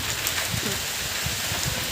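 A sudden downpour drums steadily on surfaces outdoors, a dense loud hiss with faint low thumps beneath and nobody speaking.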